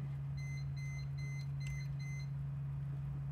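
A multimeter gives a short series of evenly spaced high beeps over a steady low electrical hum, then falls silent.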